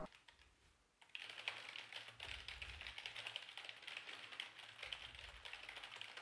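Steady, fairly quiet typing on a Corsair K55 RGB membrane gaming keyboard with soft, muted key presses, starting after a brief pause and continuing in a quick, even patter.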